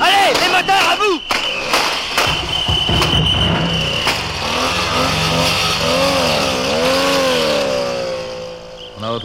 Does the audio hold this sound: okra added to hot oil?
no